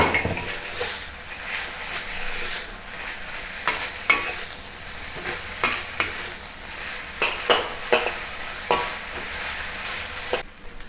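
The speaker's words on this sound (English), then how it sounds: "Return the pork to the wok, combine it with the peppers." Pork and peppers stir-fry in a wok, a loud continuous sizzle punctuated by repeated metallic spatula scrapes and tosses at an irregular rhythm, close up with no voice.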